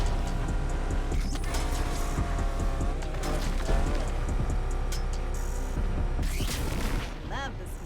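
A car engine on nitrous boost in Need for Speed Unbound roars under loud game music and sharp impacts, with a voice speaking over it and a rising whine near the end.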